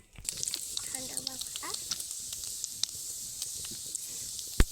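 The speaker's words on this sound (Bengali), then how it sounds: "একই তেলে দিয়ে দেবো গোটা গরম মশলা কাঠ লবঙ্গ এলাচ সমস্ত কিছু" Whole garam masala of cinnamon, cloves and cardamom sizzles steadily in hot oil, a close bright hiss with scattered crackles and pops and a sharp clink near the end, while a voice talks briefly.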